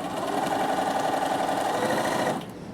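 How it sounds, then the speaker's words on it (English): A Bernina sewing machine runs steadily, top stitching a seam on a garment, with a close, even mechanical whir that stops abruptly near the end. "I'm going to overlock that seam, press it up, and top stitch it"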